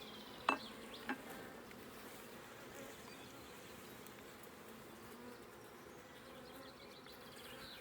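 Honeybees buzz in a dense, continuous drone close by during transfer from an old hive to a new one, with a couple of brief knocks near the start.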